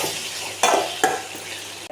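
Tomatoes frying with chilli powder and coriander powder in a pan, stirred with a spoon: steady sizzle with two sharper scraping stirs and a clink near the end, no talking.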